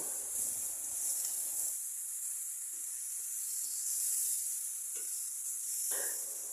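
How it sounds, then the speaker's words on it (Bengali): Chunks of meat sizzle in a pan of spice masala while being stirred and slow-fried, a steady soft hiss with faint scraping movements throughout. "সব মশলার মধ্যে আমি এখন মাংসগুলো দিয়ে দেবো মাংসগুলো দিয়ে নেড়ে চেড়ে কষাতে থাকবো"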